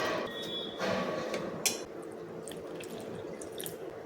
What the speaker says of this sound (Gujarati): એની અંદર થોડું થોડું પાણી એડ કરતા જઈને એક ખીરું બનાવી લઈશું।